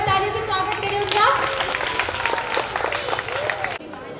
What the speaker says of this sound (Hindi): तो जोरदार ताली से स्वागत करें उनका।